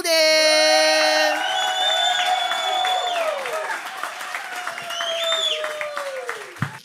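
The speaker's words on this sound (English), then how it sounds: "please give a rousing applause to Mr. Alonzo Bodden." Comedy club audience greets a stand-up comedian with clapping, cheers and whoops, loud at first and then tapering, with shouted voices and a few whistles mixed in.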